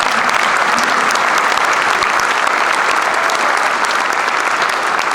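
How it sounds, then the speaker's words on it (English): Steady, loud applause from a crowd, dense clapping filling the whole stretch without a break. "Give them another round of applause."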